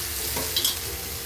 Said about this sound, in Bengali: এখন দিয়ে দেবো পেঁয়াজ বাটা, একটু যে রেখেছি বাটাটাও দিয়ে আমি কষিয়ে নেবো ভালো করে